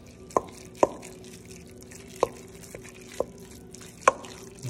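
Meatball mixture with coconut aminos stirred in a bowl, a handful of sharp wet taps and squelchy plops spaced about a second apart, close and fairly quiet over a faint room hum.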